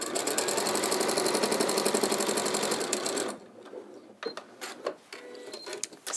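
Sewing machine stitching straight across fabric, a fast steady mechanical chatter for about three seconds that stops abruptly, followed by quiet handling clicks and rustles.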